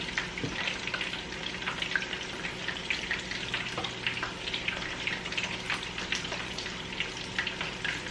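Honey glaze sauce cooking down in a pan for wings, a steady close bubbling sizzle with fine crackles and occasional soft pops, no talking.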